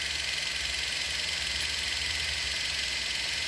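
A car engine idles steadily while its radiator coolant warms up, producing a constant low rumble with a faint rhythmic pulse and a hissy wash on top.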